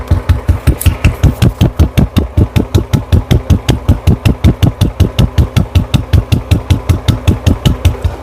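A Royal Enfield motorcycle with a modified silencer idles close up, its loud single-cylinder exhaust thumping in a steady, even rhythm throughout.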